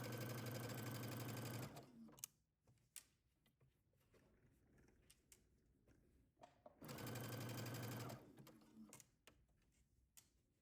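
A sewing machine stitches a narrow zigzag seam along a dress underarm, running in two steady, close bursts separated by a pause filled with faint handling clicks.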